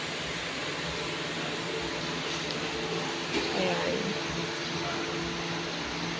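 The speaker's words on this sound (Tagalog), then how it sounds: "Buhay na rin po ang aming blower for this morning kasi po, napakainit sa aming inahin." A blower fan runs steadily in a pig pen on a hot morning, giving a constant broadband whoosh with a low hum beneath, while a person talks faintly over it.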